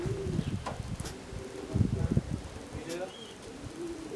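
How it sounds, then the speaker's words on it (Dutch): Pigeons coo softly and faintly at a pigeon loft, with low murmuring calls and light rustling while people talk quietly nearby. "Vroege duif."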